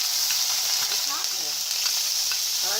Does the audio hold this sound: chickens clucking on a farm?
no